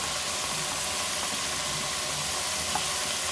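Minced meat frying in a pan over onions already fried, giving a steady, even sizzle that runs unbroken throughout at moderate loudness, with no voices.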